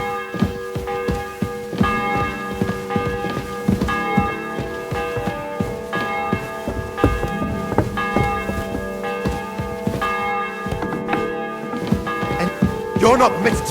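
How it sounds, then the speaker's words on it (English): A bell tolls repeatedly before an execution in Kingdom Come: Deliverance 2, its resonant ringing strikes recurring at intervals and overlapping with crowd murmur and other game sounds. "The 11th toll of the bell. The last before the execution starts."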